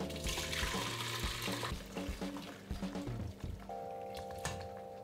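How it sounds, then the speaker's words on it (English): Beef vegetable soup broth being poured through a strainer, with liquid splashing and running steadily into a pot, close and fairly loud, mixed with some clinking of kitchenware and tonal hum. "we're gonna strain all the nice, beautiful soup broth. I like to use one of these strainers"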